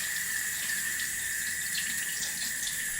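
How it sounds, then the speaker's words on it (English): Water runs steadily from a kitchen tap while lemons are washed, a continuous close hiss and splash with no voices. "So, let's wash our lemons."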